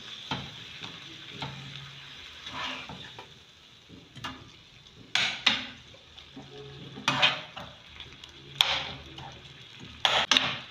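Meat pie filling fries in a pot while a spoon stirs it, giving a steady sizzle broken by scraping clinks and knocks against the metal. The sound is close, with no talking.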